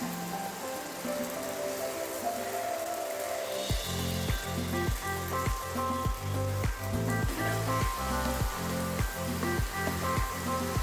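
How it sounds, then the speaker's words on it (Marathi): Cut pieces of wheat-flour khare shankarpale hit hot oil in a pan, and a loud, steady sizzle and bubbling of frying takes over and runs on continuously. "आता आपण त्याच्यात आपले कापलेले जे खारे शंकरपाळे आहेत ते टाकूया."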